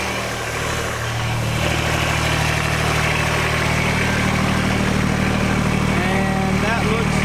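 A Kubota tractor engine idles steadily during its break-in period, a constant low rumble with a mid-range drone that runs throughout, audible behind someone speaking nearby.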